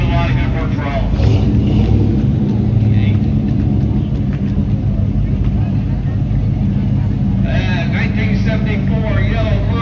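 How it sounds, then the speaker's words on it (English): A yellow 1974 Monte Carlo rolls by in a July 4th parade in Blairsville, its engine a steady low rumble mixed with continuous crowd and street noise, with voices in the background. "1974, yellow Monte Carlo, Doug Brown."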